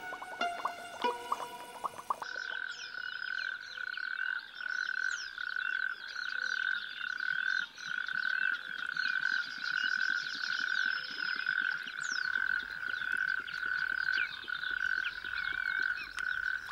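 Frogs croaking at a pond, a steady dense chorus of rapid pulsing calls holding on continuously with brief swells, preceded by a short burst of other sound at the start.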